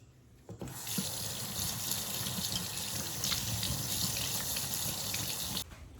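A bathroom sink tap runs in a steady, close rush of water while a makeup brush is rinsed, starting abruptly and stopping near the end.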